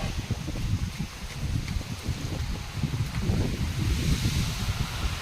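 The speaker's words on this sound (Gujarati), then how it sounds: "પવન કેટલો છે જો આ ઝાડવા કેટલા હાલે છે" Strong wind before rain rushes through swaying trees in a rural village in the early morning, a loud, continuous roar of rustling leaves and gusts buffeting the microphone, with no one speaking.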